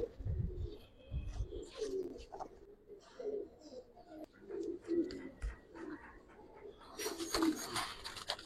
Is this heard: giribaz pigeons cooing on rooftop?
yes